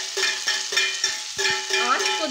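Sliced long-cut okra (bhindi) dropped into hot oil in a kadhai, giving a steady close sizzle with soft stirring scrapes and clinks, alone with no talk.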